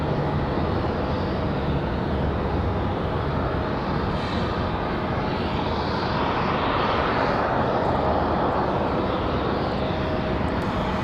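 An airliner arriving at Raleigh-Durham airport roars steadily and loudly, its broad jet rush holding constant and shifting slightly in tone as it passes close by.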